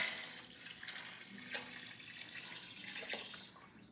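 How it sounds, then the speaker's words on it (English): Whey poured off cottage cheese curds into a bucket, a soft, steady liquid splash and trickle at close range with a few sharper drips, no talk. "I'm just going to pour off and keep this bucket for the pigs."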